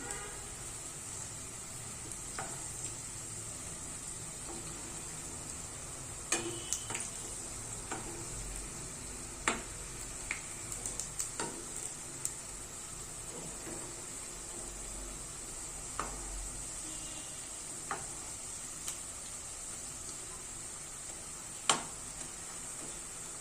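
Spinach pakoda frying in oil, a soft steady sizzle with scattered clicks and taps as the fritters are turned now and then.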